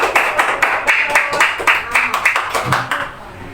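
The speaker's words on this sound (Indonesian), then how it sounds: "Tepuk tangan dulu." A small group in a classroom claps in a quick, steady rhythm, close and fairly loud, for a few seconds before tapering off.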